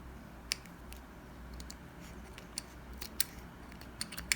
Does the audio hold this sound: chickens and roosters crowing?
no